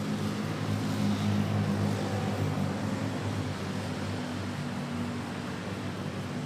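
At Manila Airport, an aircraft on runway 06 produces a broad, steady roar with a low engine rumble, heard continuously at a moderate distance with no voices.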